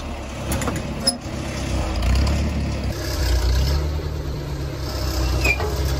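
A tractor engine runs at a low, steady rumble while moving heavy metal at a desert car hoard, with a few clanks and a slight rise in engine note partway through.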